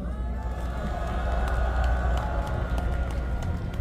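A large outdoor crowd at a nighttime candlelight rally in front of Gwanghwamun claps and cheers steadily, a dense, continuous roar of applause with murmuring voices throughout.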